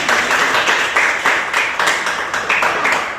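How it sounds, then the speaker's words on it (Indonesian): Students in a classroom applaud, a steady, close patter of many hands clapping with a loose pulse, loud and continuous with little talk over it. "tepuk tangan untuk semua"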